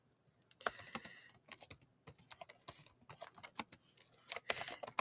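Keys clatter on a computer keyboard as notes are typed, bursts of quick close taps with short pauses between runs, no voices heard.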